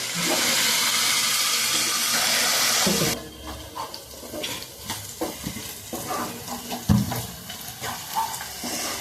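Beef pieces deep-frying in an open pan without a lid: a loud, dense hiss for the first few seconds, then quieter sizzling broken by scattered stirring clatters and scrapes, with no voices.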